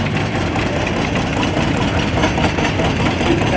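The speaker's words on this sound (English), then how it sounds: "Here we got a Farmall H. It's a 1949 model owned by Grayson Merritt." A 1949 Farmall H antique tractor engine rumbles steadily at an antique tractor parade, a close, loud low-pitched chugging with crowd and outdoor noise mixed underneath.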